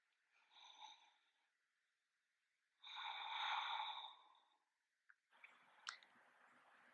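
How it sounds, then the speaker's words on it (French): Ujjayi breathing during a yoga twist, two slow, hissing, throaty breaths close to the microphone with a quiet pause between, followed by a few soft clicks and rustles. "Respiration Ujjayi si vous pouvez."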